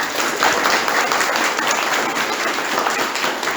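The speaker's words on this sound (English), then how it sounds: "Give the year twos a round of applause." Dense, steady applause from a school concert audience cheering Year 2 pupils after their musical performance, continuous and fairly loud throughout with no talking over it.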